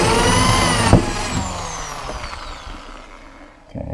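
A power drill bores into a plastic tub while a 26L Addis tub rack is being built, giving a close, continuous whining grind whose pitch slowly sinks for several seconds before it eases off.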